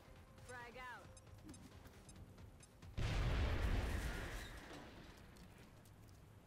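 A frag grenade going off in the strategy game XCom, one sudden heavy blast about halfway through that rumbles and slowly fades, following quieter ambience with a brief chirp.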